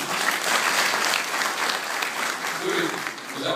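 Dense, steady applause from a large audience at a political gathering, a continuous wash of many hands clapping close and loud for the whole stretch, with faint voices mixed in.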